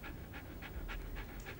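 A pet dog pants quickly and steadily, about six rhythmic breathy huffs close to the microphone in a quiet room.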